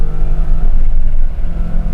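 Maserati V8 engine, a high-revving unit that redlines at 7,500 RPM, running with a steady loud mechanical drone and rumbling low exhaust, held near and continuous for the whole stretch.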